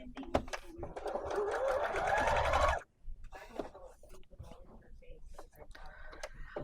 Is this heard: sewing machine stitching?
yes